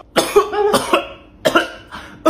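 A person coughs several times in quick bursts, close and loud, with short pauses between the coughs.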